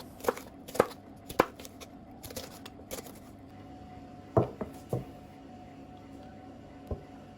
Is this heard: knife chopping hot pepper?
yes